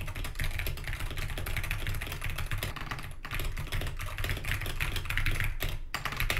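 Steady, fast typing on a Wooting keyboard fitted with analog Lekker switches: dense close-up clacks and thocks in a continuous stream, with two brief pauses, and no voices.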